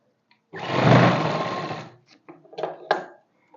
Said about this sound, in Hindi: इसी के ऊपर से हमने दूसरी सिलाई इसको लगानी है